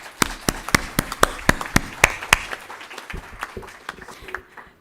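An audience at an event honouring a guest applauds with sharp, fairly sparse hand claps, loud at first and then thinning into scattered, fainter claps.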